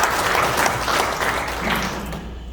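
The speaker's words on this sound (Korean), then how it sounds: "계시진 않지만 박수 부탁드리겠습니다." Steady applause from the audience at an apartment complex residents' meeting, a continuous wash of many hands clapping at moderate volume for a couple of seconds.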